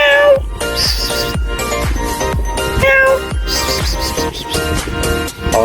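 A cat meows again and again, close and fairly loud, in a run of short high-pitched calls mixed with soft thumps, outdoors during a fishing outing.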